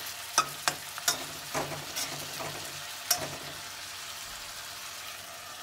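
Potatoes and fenugreek leaves cook covered in a pan, giving a quiet bed of sizzle broken by several sharp ticks and taps near the start and another around the middle, fairly faint and without speech.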